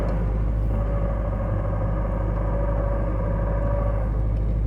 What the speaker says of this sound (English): There's absolutely no issues with this transmission except this little bit of noise here.